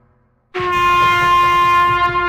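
A cartoon train sound effect, a steady horn-like blast with layered harmonic tones that starts abruptly after a brief silence and holds loud and sustained, with no talk.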